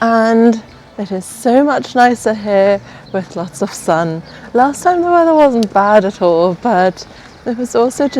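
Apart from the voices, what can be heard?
No distinct noise like a dog, phone or traffic.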